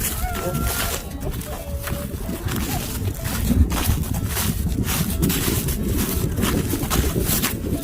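Steady wind roars across the microphone outdoors in a cold field of rice paddies, with faint voices mixed in.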